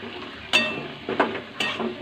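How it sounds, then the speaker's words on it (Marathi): A lid is lifted off a cooking pot on a home kitchen stove, giving a sharp metallic clink followed by two more lighter clanks of metal cookware against a steady low sizzling background. "मस्त झाकण काढते आता मी"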